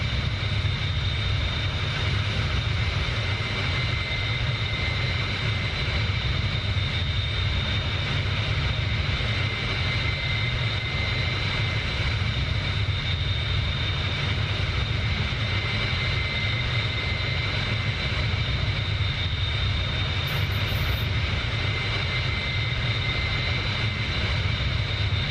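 A Bell 47 helicopter's engine drones steadily in DCS, a loud, constant whir with tonal hum and no change in level throughout.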